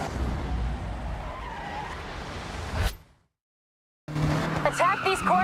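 A Mazda MX-5 in the Forza Horizon racing game slides sideways through corners, its tires hissing and squealing under engine noise before a brief silence and a burst of game sounds.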